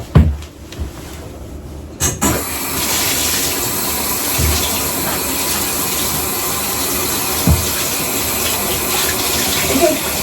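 Water gushing from a tap into a bathtub, a loud continuous rushing fill with a few bumps and knocks near the start and occasional thuds as it runs.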